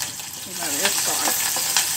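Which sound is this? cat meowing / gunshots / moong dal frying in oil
moong dal frying in oil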